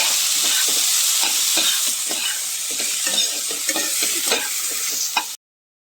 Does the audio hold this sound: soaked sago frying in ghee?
yes